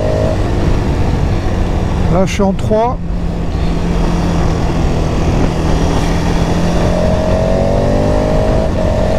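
A KTM 1290 Adventure motorcycle engine hums steadily and picks up revs under throttle at speed, with strong wind noise and a rider talking over it.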